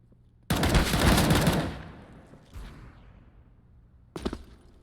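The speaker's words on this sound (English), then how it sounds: "He's just picking them off with his AK." An AK rifle in a multiplayer shooter fires a sharp full-auto burst, then decays, followed by a fainter shot and one more short close burst.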